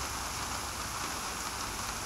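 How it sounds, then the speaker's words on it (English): Steady rain falls in the survival video game DayZ, a constant even hiss with no breaks and no voices over its two seconds. "It's raining now."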